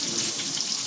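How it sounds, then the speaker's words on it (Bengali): Onions sizzle in hot oil as the base for a hilsa fish bhuna, a dense, even crackle held throughout the brief moment. "এখন পেঁয়াজ দিয়ে নিবে।"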